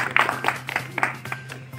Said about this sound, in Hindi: तो एक बार जोरदार तालियां बजा करके स्वागत करिए